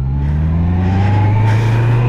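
A 2024 Honda CBR 650 R E-Clutch motorcycle in first gear pulls away, its engine note rising steadily as it accelerates, loud and close with no talk over it.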